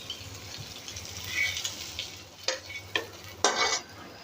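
Fish frying in hot oil in a home kitchen makes a continuous sizzle, broken by a few sharp clinks and scrapes of a utensil against the pan near the end.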